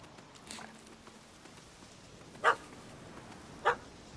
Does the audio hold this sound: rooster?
no